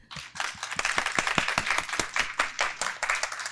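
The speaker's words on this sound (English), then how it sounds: "a round of applause for everyone" Audience at a conference session applauding, a dense stretch of many hands clapping steadily and fairly close, with no speech over it.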